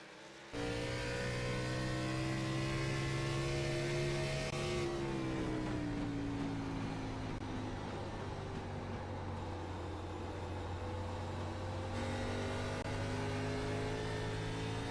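Race car engines droning steadily at a New Hampshire oval race, a sustained whining roar with pitch shifts as cars change speed, heard from a distance without voices.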